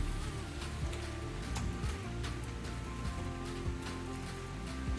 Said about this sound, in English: it is starting to rain in earnest here now